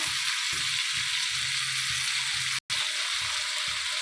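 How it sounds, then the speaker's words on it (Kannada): Mint leaves fry in hot oil with a dense, steady sizzle, close and loud, broken only by a brief dropout partway through. "ಆ ಪುದೀನ ಸೊಪ್ಪನ್ನು ಹಾಕೋಣ ಅದು ಸಹ ಆ ಎಣ್ಣೆಲೇ ಫ್ರೈ ಆಗಬೇಕು"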